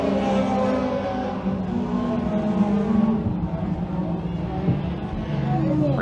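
Thundercar race cars roaring around a speedway oval, a sustained layered engine drone with shifting pitch as the pack races through the turns, and an announcer talking over it.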